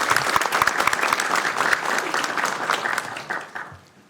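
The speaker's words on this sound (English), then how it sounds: "let's give him a big round of applause for the United Farm" An audience in a city council chamber in Sacramento breaks into sustained applause, a dense steady wash of many hands clapping that fades away toward the end.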